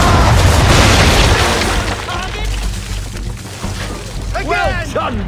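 A broadside of ship cannons from a naval battle in Assassin's Creed III erupts in heavy booming blasts at the start, rolling into a decaying rumble, with shouted voices and crew talk over the tail.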